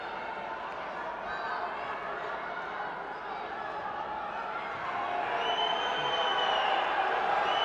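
A crowd at a judo match in Istanbul keeps up a sustained roar of cheering that swells louder toward the end, under steady commentary.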